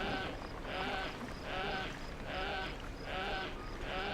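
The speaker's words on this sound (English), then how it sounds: "my ram is making strange noises." A ram mount in World of Warcraft: Battle for Azeroth gives repeated bleats in a steady rhythm, about five pulsing calls close by over a low game background.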